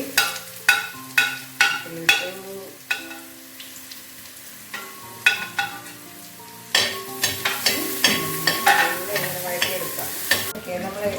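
Shallots, chopped ginger and garlic fry in a pan for a Kerala fish curry, a spoon scraping and clinking in quick repeated strokes over a soft sizzle, with brief pauses between bursts of stirring.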